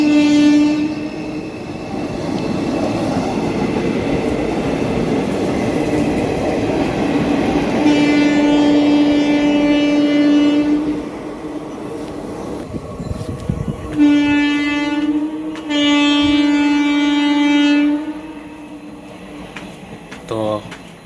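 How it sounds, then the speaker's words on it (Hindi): Bagha Jatin Express, a passenger train bound for Howrah, rolls loudly and close past Bahanaga station, with a steady heavy rumble of wheels and carriages and long blasts of its horn sounding repeatedly. "ये ट्रेन जाऊँ"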